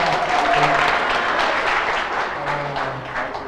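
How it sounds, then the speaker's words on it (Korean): Audience applause at a business presentation, a dense steady clatter of many hands clapping close by for the full stretch, fading slightly toward the end with a faint voice or tone underneath. "감사의 박수 큰 박수 부탁드리겠습니다"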